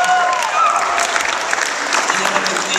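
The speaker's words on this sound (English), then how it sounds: "Let's give him a round of applause." An audience claps in a steady, moderately loud round of applause, with a voice speaking over the clapping.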